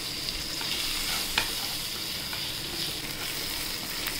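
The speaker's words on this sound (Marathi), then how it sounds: "धणे, जिरं, काळी मिरीची पूड, वेलची आणि लवंग हे आपण सगळं याच्यात आपण परतून घेऊया." Coriander, cumin, black pepper, cardamom and cloves sautéing in oil, a steady hissing sizzle with faint intermittent stirring clicks, close and constant.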